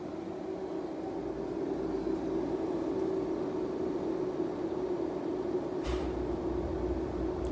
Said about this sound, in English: So that's my boiler that just kicked on.